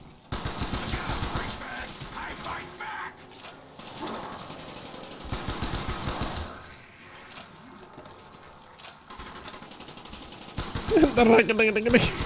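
AK rifle gunfire in a zombie video game, rapid bursts of automatic shots in clusters near the start and again at the end, with players talking over the action.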